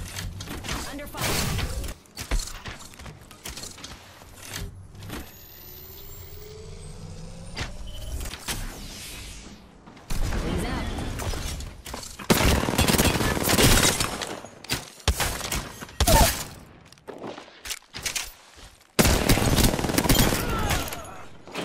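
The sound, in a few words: gunfire in video game Apex Legends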